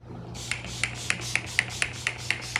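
Short bursts from a handheld makeup setting-spray sprayer, about nine evenly spaced hissy pumps close up, each with a sharp onset over a low steady hum.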